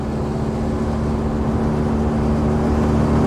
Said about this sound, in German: er hat diesen ganz tollen großen Motor, der diesen Wahnsinnswagen hier wirklich ausreichend beschleunigt und bewegt hat